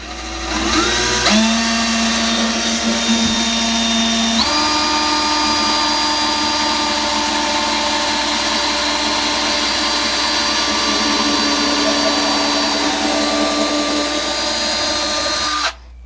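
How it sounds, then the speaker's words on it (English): A power drill whines up to speed and holds a steady, loud high-pitched drone for several seconds while drilling a small pilot hole into a kitchen cabinet, before cutting off. "next we'll drill our small pilot hole right here again"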